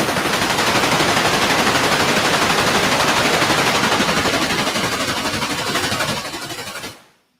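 Video game gunfire comes as loud, continuous, rapid automatic bursts that fill the scene for about six seconds, then fade out abruptly, with no talking.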